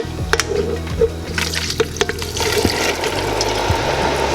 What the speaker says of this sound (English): And now I'm just going to drain.